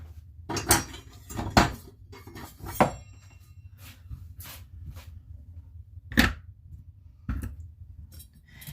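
A knife chops celery on a cutting board in a home kitchen, several sharp uneven knocks of the blade hitting the board with short pauses between, close and fairly loud, with no talking.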